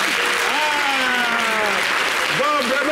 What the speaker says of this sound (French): on va applaudir pour Daï Zoko quand même